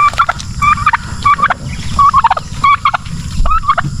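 Several male turkeys gobble repeatedly in loud, rapid bursts, one after another, with a steady low rumble of background noise underneath.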